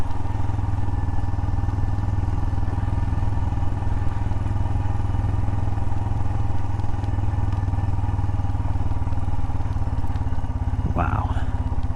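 A motorcycle rides a winding North Carolina mountain road in winter, its engine droning steadily and loudly throughout with constant wind buffeting, and a brief clatter near the end.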